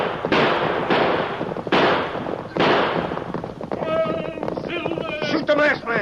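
Loud bursts of gunfire in a western shootout, several heavy broadband blasts about a second apart, then jumbled shouting and crackling action noise.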